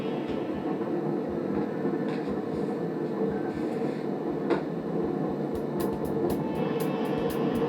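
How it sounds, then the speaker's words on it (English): A machine spins up toward 1500 RPM on a predictive-maintenance test setup, giving a steady, fairly quiet low rumble and hum with a few faint clicks and knocks. "We will wait for the machine to reach 1500 RPM before initiating data collection."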